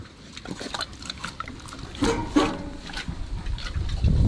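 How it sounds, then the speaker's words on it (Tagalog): Pigs feeding in a pen, close up, with wet snuffling, slurping and grunting chewing sounds that come in uneven bursts and grow louder toward the end. "Yan ang lusog na rin baboy natin na yun"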